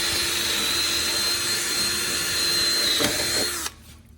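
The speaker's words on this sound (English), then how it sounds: "I'm just drilling through the aluminium." A power drill whines steadily at close range, biting through aluminium for a few seconds before abruptly stopping.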